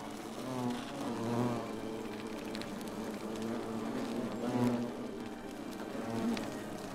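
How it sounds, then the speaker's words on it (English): Bees swarm around a bee's nest in a video game, a steady close buzzing that swells and fades in several waves, with no voices. "Oh God, there's a bee's nest."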